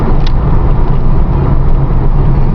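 A 1990 Dodge Daytona Turbo with a 3-speed cruises down a street at about 50 mph and just over 2,000 RPM, giving a loud, steady engine drone and road rumble heard from inside.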